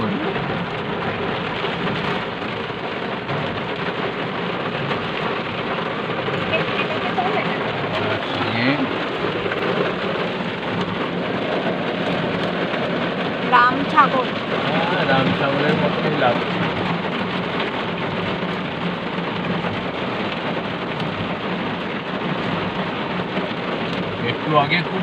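Steady rain falls across an open safari park in Cambridge where giraffes and rhinos roam, a continuous hiss running throughout with people chatting over it and a few brief knocks near the middle.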